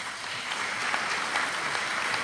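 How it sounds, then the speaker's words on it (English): Audience applauding county commissioners at a community gathering, a steady wash of clapping at moderate level with no speech over it. "So if we can get a round of applause,"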